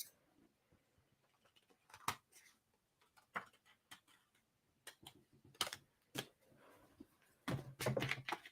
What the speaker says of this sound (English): So I'm just going to go straight in with my scissors.